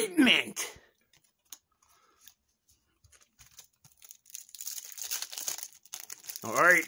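Tearing open a foil UTZ baseball trading card pack wrapper: scattered crinkles and clicks building to a rustling rip, close to the microphone, with a voice briefly heard at the start and end.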